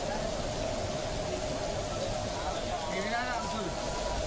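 Heavy monsoon rain pours steadily over Hyderabad, a dense, constant hiss and patter that fills the whole clip without a break.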